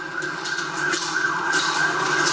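An ambulance siren wailing in a town after a tornado, a loud steady tone that rises and falls, heard from a middle distance over a constant background rumble.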